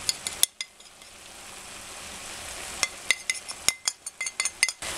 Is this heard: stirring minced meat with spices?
yes